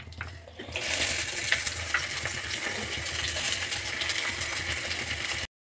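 Onion hitting hot oil with toasted cumin, cardamom and bay leaf, a loud steady sizzle and crackle that starts abruptly and holds until a sudden cut.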